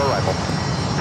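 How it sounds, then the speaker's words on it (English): Gulfstream 4 business jet arriving at LAX on a flight from Santa Rosa, its steady engine roar loud and close, with talk running over it through the whole second. "This is Gulfstream 4 coming in from Santa Rosa."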